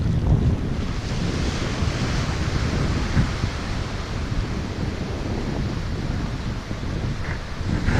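Wind and surf at Rarawa Beach on a windy morning: constant roar of breaking waves mixed with heavy wind buffeting the microphone, loud and unbroken throughout.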